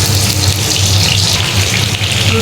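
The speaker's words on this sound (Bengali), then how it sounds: "এবার হালকা একটু আমি ভেজে নেব" Whole garlic cloves fry lightly in hot mustard oil for a mango pickle, giving a steady, dense sizzle and crackle that holds evenly throughout with no voices.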